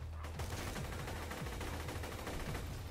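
Rapid, sustained automatic fire from the Shredifier assault rifle in Borderlands 2, a dense loud stream of shots running the full length over a low rumbling game background, with no talking.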